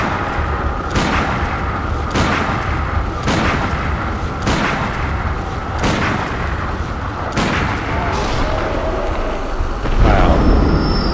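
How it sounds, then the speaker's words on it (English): Heavy pistol shots in Bloodborne, about nine loud booming reports evenly spaced roughly a second apart over a rumbling background, the last one followed by a brief louder swell. "it's weak enough for me to pistol shot him to death"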